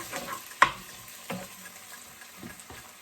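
Broccoli sizzles in a hot pan for pad thai, with a few distinct stirring scrapes and clatters over a low, quiet frying hiss.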